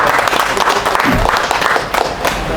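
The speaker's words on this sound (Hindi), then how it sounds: "हम सभी से चाहेंगे इनका तालियों से बहुत स्वागत करें।" At a pharmacists' association gathering, the audience claps loudly to welcome a guest. The applause is close and busy and mixes with room noise and faint crowd murmur through the short burst.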